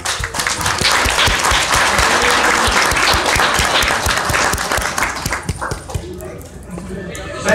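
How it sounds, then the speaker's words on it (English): Audience applause fills an aquarium show after a fish feeding, broadband clapping running loud and steady for most of the stretch, with dog-like yips and voices mixed in before it thins out near the end. "let's give him a big round of applause"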